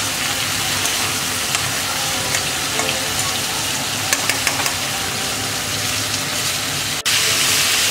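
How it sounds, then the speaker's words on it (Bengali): Crab pieces frying lightly in hot oil as a crab curry is cooked, a steady dense sizzle and crackle running throughout, briefly louder near the end. "এই যে আমি হালকা ছাঁকিয়েছি, পুরো ভালো করে ভাজিনি, জাস্ট ছাঁকিয়ে নিচ্ছি"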